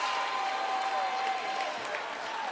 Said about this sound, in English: I think that's the loudest I've ever heard a crowd get for a putback layup.